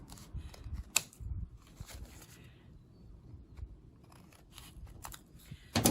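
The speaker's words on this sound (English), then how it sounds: "we're going to snip off those edges just like this" A few sharp scissor snips cut the edges off a paper page tag for a journal, occurring as brief isolated bursts close by with quiet pauses between.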